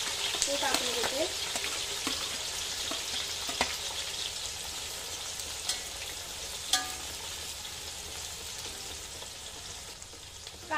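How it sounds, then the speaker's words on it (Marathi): Half a kilo of lengthwise-sliced onions tossed into hot oil for a large batch of masale bhaat, a loud, dense, continuous sizzle with occasional spatula clatters, close up throughout. "इथे अर्धा किलो कांदा मी उभा चिरून घेतलेला आहे, तो टाकून घेते।"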